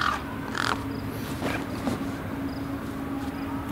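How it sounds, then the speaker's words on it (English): A bird in the video game Beyond a Steel Sky gives a few short, rough caws over a steady low background hum, with no other sounds around them. "Here's the bird."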